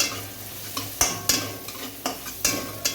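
Onions for a potato samosa filling sauté in a pan, with a continuous sizzle broken by repeated sharp scrapes and clacks of a spoon against the pan, close and rhythmic, with no talking.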